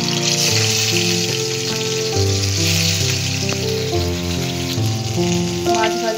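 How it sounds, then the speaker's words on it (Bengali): Bata fish frying in hot mustard oil, a steady close sizzle running throughout alongside a loud background of tonal music. "তেলটা গরম হয়ে গেছে, আমি পুরো রান্নাটা সর্ষের তেলেই করব। মাছটা এবার তেলে"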